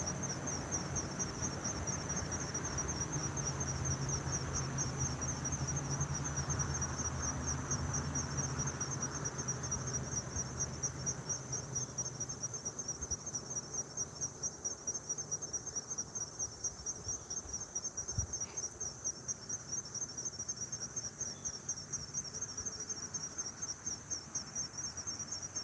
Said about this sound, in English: Crickets are loud. I don't know if you guys can hear those crickets.